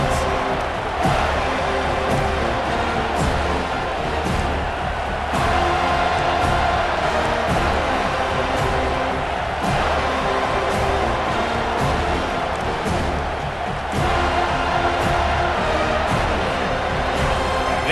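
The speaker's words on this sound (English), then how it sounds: "this crowd trying to help keep them there" Steady roar of a large football stadium crowd cheering during a defensive stand late in a game, a dense continuous wash of voices that swells and holds for the whole stretch with a commentator talking over it.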